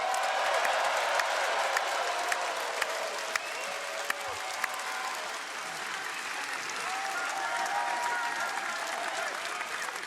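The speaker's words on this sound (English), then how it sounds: "let's give a round of applause for Top Flight" An arena crowd at an AEW wrestling show in Vancouver, BC applauds steadily for about ten seconds, a dense, even wash of clapping with scattered cheers and a faint voice mixed in.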